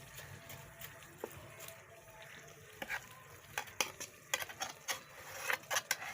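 Mustard greens saag being stirred with spices in a hot pan, a steady sizzle with irregular scraping and clinking strokes of the spoon that grow sharper and more frequent toward the end.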